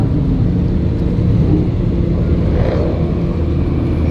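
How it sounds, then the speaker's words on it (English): Lamborghini Aventador V12 engine idling on a New York City street, a loud, steady, deep rumble holding constant for about four seconds with no talk. "The idle on this car is so loud."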